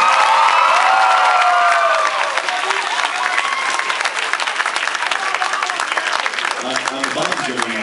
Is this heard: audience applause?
yes